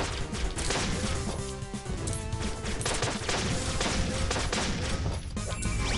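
Dense chaotic bomb explosions and crashing impacts in the pirate action game Flinthook, continuous loud bursts layered over game music with no pauses.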